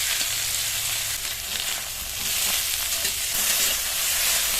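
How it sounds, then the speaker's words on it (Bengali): Chopped medium tomatoes frying in hot oil in a pan, a loud, dense, continuous sizzle that holds steady throughout with no voices. "টমেটোটা একটু ভাজা ভাজা করে নেব"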